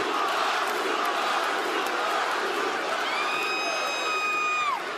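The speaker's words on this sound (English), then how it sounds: "Listen to the damn crowd." Wrestling arena crowd at a Friday Night SmackDown event roars in a loud, sustained wall of cheering and shouting, with rising whoops and whistles near the end.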